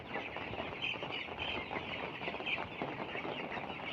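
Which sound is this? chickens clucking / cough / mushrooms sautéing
chickens clucking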